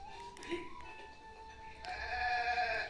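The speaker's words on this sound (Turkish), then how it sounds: "Keçi." A goat in a Zelda game bleats in a wavering, nasal cry, then a second longer bleat, over a soft tonal background.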